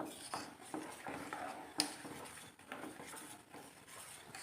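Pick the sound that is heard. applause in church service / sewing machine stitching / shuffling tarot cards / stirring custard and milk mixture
stirring custard and milk mixture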